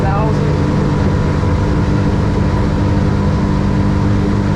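A Yamaha F300 outboard engine on a Stabicraft 2350 boat runs hard near 6,000 rpm, a loud, steady, unbroken drone mixed with rushing wind and water noise that stays constant throughout.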